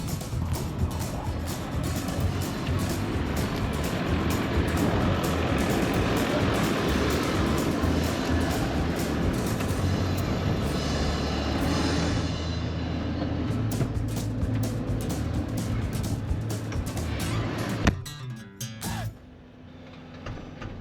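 Steady wind roaring across an open farm field after an oat silage harvest, a loud broadband rush that holds constant for most of the stretch before easing near the end, with no talk.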